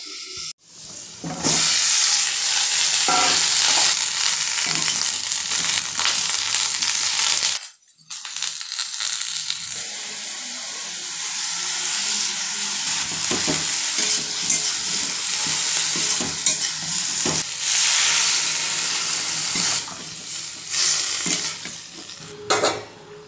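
Vegetables, cut and prepped beforehand, stir-fry in a pan at home in a Bengali kitchen: steady loud sizzling and frying with scraping, stirring strokes of a spatula. A brief pause comes partway through, then it continues, with no voices.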